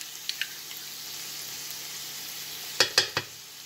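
Barbecue sauce and Coca-Cola worked into a low-heat pan with a faint steady sizzle, a couple of light early scrapes, then three louder clacks of a utensil against the pan near the end.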